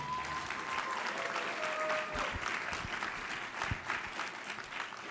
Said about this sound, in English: Can we get one more round of applause for the man